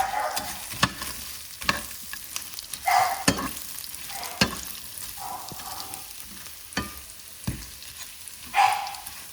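Chilaquiles ingredients fry on a griddle with a steady sizzle, broken by sharp scraping clicks and stirring knocks at irregular intervals, close and moderately loud.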